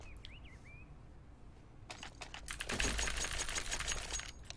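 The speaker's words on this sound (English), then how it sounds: "typing now" Rapid clicking keystrokes in a CS:GO pickup match on the Cobblestone map, a dense burst of clatter that starts about two seconds in and grows louder and busier, with a faint bird-like chirp near the start.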